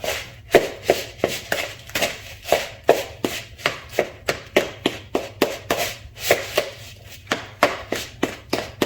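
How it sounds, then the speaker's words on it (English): Hands work beef mince seasoned with Worcestershire sauce in a bowl, making a steady run of close, wet squelching slaps at a regular rhythm. "So we're just mixing everything together."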